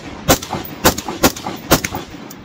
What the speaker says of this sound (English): So I'm gonna shoot some more.